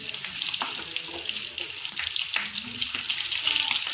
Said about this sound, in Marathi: इकडे तेल टाकलं मी ह्याच्यामध्ये कढईमध्ये आणि आता ह्या मिरच्या मी टाकून घेते